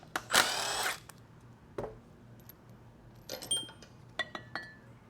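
A power tool whirs in one short burst while removing the tail housing from a 6L80E transmission. Metal parts clink and tap close by in the quiet that follows.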